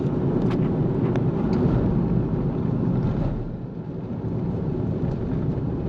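A Ford Fiesta ST, stage 2 tuned to 230 hp, accelerates in fourth gear with a loud, steady engine drone and road and wind roar inside the car, easing off briefly midway.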